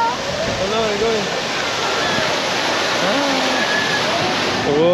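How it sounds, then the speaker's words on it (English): A waterfall on a Tokyo DisneySea ride, a loud, steady rush of falling water filling the whole span, with people's voices heard over it. "we're going to the waterfall"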